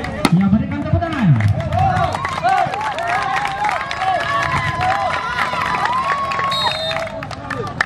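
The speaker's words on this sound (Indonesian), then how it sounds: "Ya, berikan tepuk tangan." Spectators at an outdoor volleyball match of a neighbourhood tournament clap and cheer as a crowd, while an announcer talks over the noise and voices shout across the stands.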